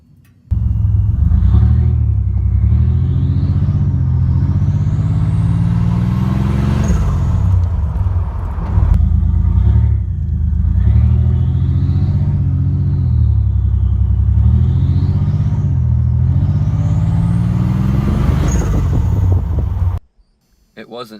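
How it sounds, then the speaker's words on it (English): Buick Grand National fitted with an HKS blow-off valve revving repeatedly, a loud engine rumble rising through each pull, broken by sharp hissing whooshes from the valve at every lift-off, alone with no talk. "I just threw an HKS blow-off valve on my Grand National and it sounds freaking amazing"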